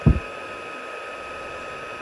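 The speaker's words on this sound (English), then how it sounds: "You notice I don't wave my heat gun around." A steady, airy blowing hiss from an embossing heat gun runs continuously at moderate level, with a brief low thump at the very start.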